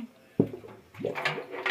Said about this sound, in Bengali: এই বালতিটা ছেড়ে দিলাম, এই পানির নিচে চলে যাবে